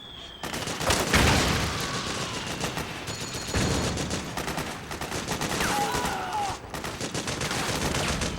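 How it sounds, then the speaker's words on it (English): Gunfire in Metal Gear Solid 4: sustained bursts of automatic rifle shots and sharp reports blend into a loud, dense firefight that keeps going throughout. "Suppressing fire!"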